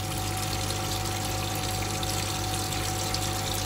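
Water pours steadily from a water main in a garage, a continuous loud rushing flow with a low pump-like hum underneath and no pauses.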